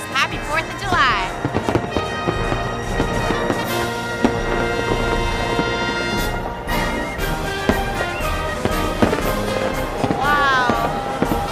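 Fourth of July fireworks launched from barges over the Manhattan skyline crackle and pop continuously, with whistling rockets rising near the start and end and people talking and cheering throughout.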